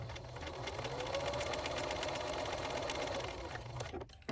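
A sewing machine runs in one continuous burst, close and steady, stitching a quarter-inch seam on a crazy patchwork heart pillow, then stops abruptly near the end.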